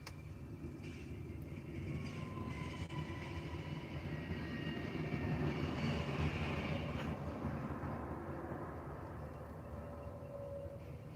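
A train rumbles past somewhere in Arizona, a low, steady drone that swells toward the middle and eases off again, heard from a distance at a faint level without talk.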